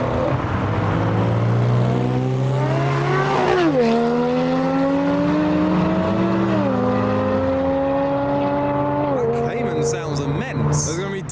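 A Nissan Pulsar fitted with a body kit revs at a car meet, its engine rising and falling in several loud, drawn-out pulls close by, with people talking over it.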